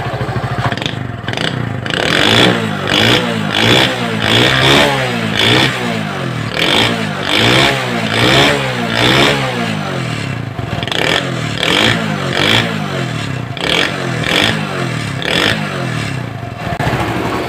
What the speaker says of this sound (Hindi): अब इसी तरीके से सिलेंसर का साउंड चेक करेंगे